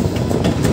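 Modhumoti Express passenger train rolling on rails near Gendaria station, a steady loud rumble with wind buffeting and no distinct clacks, heard alone and close.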